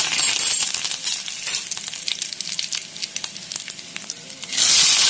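Cumin seeds and curry leaves hiss and crackle loudly in hot oil in a kadhai, oil previously used for frying okra. The sizzle dips briefly, then surges again at the end, close and alone.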